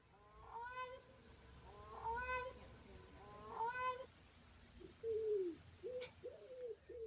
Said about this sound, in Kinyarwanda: Inuma iraguguza.